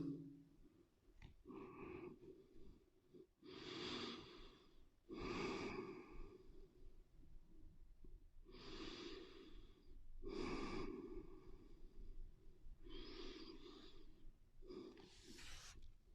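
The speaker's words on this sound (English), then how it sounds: "Deep breathing." Deep breathing during a yoga forward fold, slow audible inhales and exhales repeating in a steady rhythm, close and quiet in an otherwise still room.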